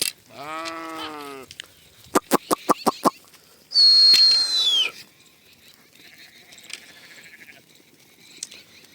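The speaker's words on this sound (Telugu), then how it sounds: "ఈ గొర్రెలు అయితే చూడండి అట్లా తింటున్నాయి, ఒట్టిగడ్డి ఫుల్లలు అయితే తింటున్నాయి" Sheep grazing on dry grass give one loud, close bleat, followed by a quick series of sharp clicks and a brief high whistle, then quiet open-air stillness.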